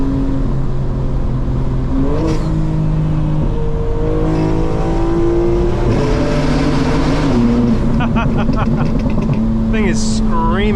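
A tuned 2025 BMW M4 Competition xDrive running 12 pounds of boost roars loudly and continuously from up close, its engine pitch climbing and shifting through the revs, with a voice briefly audible near the end.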